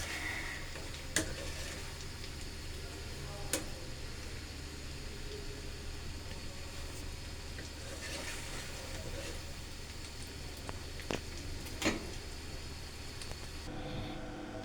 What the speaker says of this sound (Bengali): আমি চুলোটা মিডিয়াম আঁচে রেখে ভাজতেছি